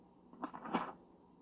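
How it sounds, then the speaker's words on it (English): A single paper page turns in a book-on-tape recording of the picture book Too Many Pumpkins, a short, soft rustle and flip lasting under a second against near silence. "This is the sound of a page turning."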